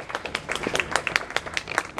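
An audience applauds warmly at an installation ceremony, with a dense, steady patter of many hands clapping close by for about two seconds.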